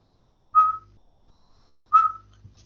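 A person whistles an imitation of a midwife toad's call, giving two short, clear, tonal peeps about a second and a half apart against near silence.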